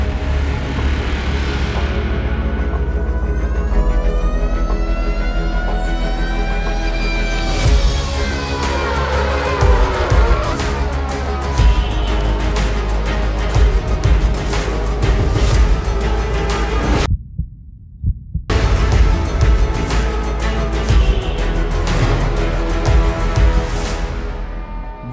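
A Cupra Urban Rebel Racer electric race car drives a fast hot lap, its loud electric whine rising and falling steadily with speed changes, broken by a brief near-silent gap before the whine returns at full strength.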